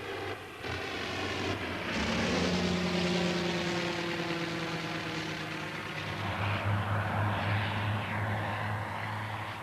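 A rotary-engined biplane such as the Avro 504 flies past, its engine drone loud and steady with a buzzing, pulsing tone that shifts in pitch as it passes, heard alone without talk.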